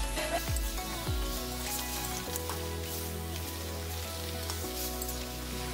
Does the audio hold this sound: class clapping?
no